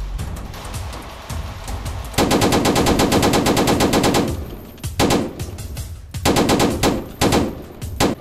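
Rapid automatic gunfire from a Golden Draco in the Streetz War 2 video game, a long sustained burst followed by several shorter bursts, loud and close with no talking.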